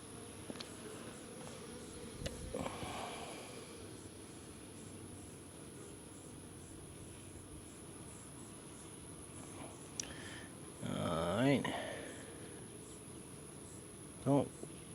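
Honey bees buzz around an open hive while a beekeeper checks queen cages, a steady low insect hum running throughout with a louder, closer swell of buzzing near the end and a brief sharp burst at the close.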